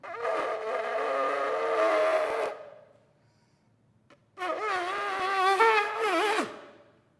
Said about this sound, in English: I am going to blow it, but I'm not a shofar blower.